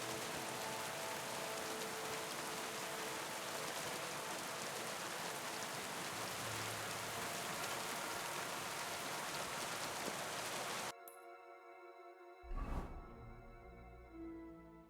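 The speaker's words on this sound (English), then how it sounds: "Don't mind the rain." Steady, dense rain hiss in the video game Kingdom Come: Deliverance II fills most of the clip, then cuts off abruptly near the end, leaving a quieter tonal background with a brief burst.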